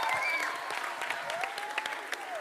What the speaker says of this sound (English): you should clap for yourselves